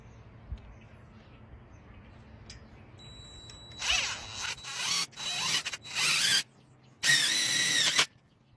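Power drill driving wood-to-metal self-tapping screws into a greenhouse metal frame: several loud, close bursts of whining motor and grinding bite, separated by short pauses, after quiet handling noise.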